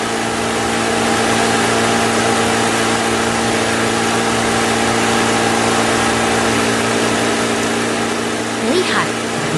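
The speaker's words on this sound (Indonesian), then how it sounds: "beruang berhati keras sedang memangkas rumput di mesin pemangkas merah" A red lawn mower engine in an animated cartoon hums steadily at an even idle, loud and continuous, with a brief rising whistle-like sweep near the end.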